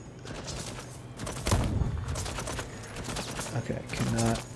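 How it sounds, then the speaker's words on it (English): A turret in the video game Deathloop fires in rapid bursts, loud and close, mixed with clicking game sounds and a player's voice. "Oh, there's a turret."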